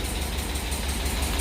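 A cammed Chevrolet Tahoe engine idles right after an oil pump refit, a loud, steady, rumbling idle heard up close without a break.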